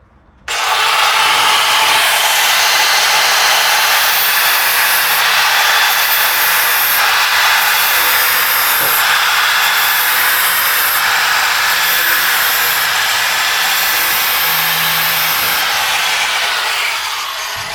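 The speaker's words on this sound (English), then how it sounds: "these flap wheels can kind of get away from you and you can dig out a pretty big gouge in the steel" A flap wheel grinds steel on the frame of a 1949 Studebaker rat rod, a loud, sustained abrasive whine and hiss that runs unbroken for many seconds, with no talk.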